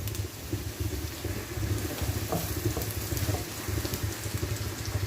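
Garlic for balbacua fries in a pan with a dense, steady sizzle and crackle, close and fairly loud, with a few brighter pops over the continuous hiss and no voices.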